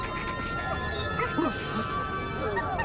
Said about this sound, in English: You're the best hunting dog in the whole world, Smiley.